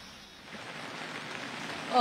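Rain falls steadily on a street in the Dadar area of Mumbai, a soft broadband wash that builds slightly and holds at a fairly low level with no voices.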